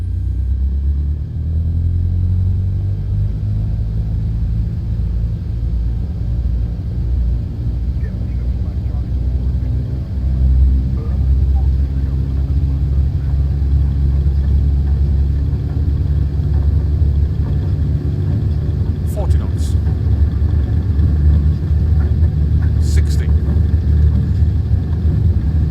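A Cessna 152 engine in Microsoft Flight Simulator builds into a loud, steady propeller drone with a deep rumble as the plane rolls down the runway for takeoff. The engine noise continues throughout, with talking heard over it.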